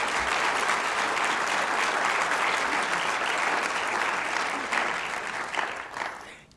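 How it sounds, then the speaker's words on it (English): An audience at a community report event breaks into loud, sustained applause that fades out near the end. "Let's give them a round of applause"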